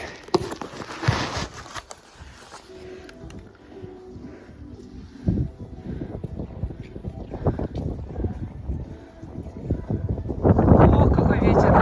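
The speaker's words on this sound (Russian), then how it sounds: "О, какой ветер, да? Метель. Просто метель." Strong gusting wind of a snowstorm buffets the microphone, roaring louder toward the end, with a few close rustles and knocks along the way.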